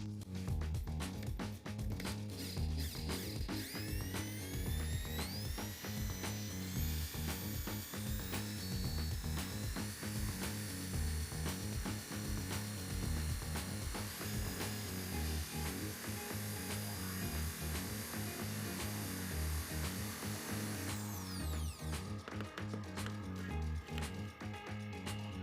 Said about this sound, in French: On prend une planche et on y fait un évidement avec une mèche plate de 20 mm.